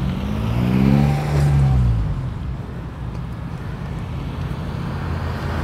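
Honda S2000 sports cars cruise in together at a large owners' meet, one a race-prepped car with a roll cage; a loud engine sweep passes close early on, then a steady broad roadway rumble continues.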